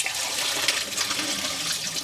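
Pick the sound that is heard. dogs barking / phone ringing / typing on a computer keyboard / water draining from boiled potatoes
water draining from boiled potatoes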